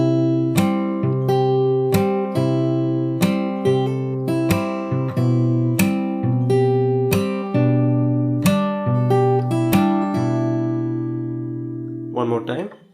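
Acoustic guitar plays a passage alone, with steady plucked notes and chord strikes in an even rhythm, ringing up close, then a brief strum at the end.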